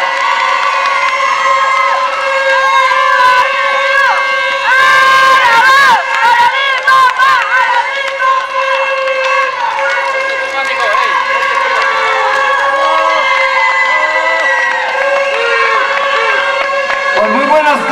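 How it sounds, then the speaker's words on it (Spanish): A loud crowd at a campaign closing rally in Ixmiquilpan, Hidalgo, cheers and whoops steadily throughout, with voices and sustained tonal sound mixed into the dense noise. "Vamos a recibir calurosamente, con un fuerte aplauso, a Héctor Martín Nápoles, ganador."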